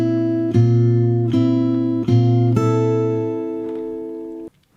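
Fingerstyle acoustic guitar playing the verse of a song, a handful of plucked chords with a bass note each, ringing out clearly and close, ending on open strings that fade to silence.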